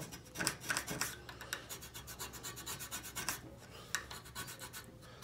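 Copper scraper dragged across the teeth of a rusty file just out of a rust remover, producing quiet repeated rasping strokes in an uneven rhythm, with no talk.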